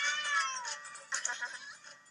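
A cat meows in the 1bitHeart video game, one clear, drawn-out high mew followed by a shorter, fainter second call, close and alone without talk.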